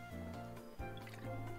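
Lukewarm water being drunk, with wet drips and a squishy gulp at mid-clip over steady low background music.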